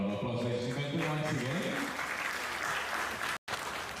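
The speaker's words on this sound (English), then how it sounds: "A round of applause, ladies and gentlemen," An audience at a corporate annual event applauds steadily, a dense wash of clapping following a host's voice.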